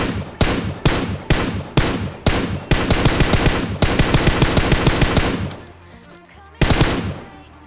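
Video game gunfire as an AKM rifle fires repeated loud bursts of automatic shots, several short volleys then a long sustained burst, a pause, and a final burst, close and alone.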